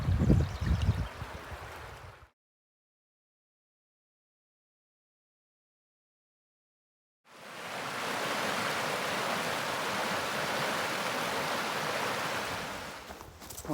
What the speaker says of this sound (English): here for the first water crossing.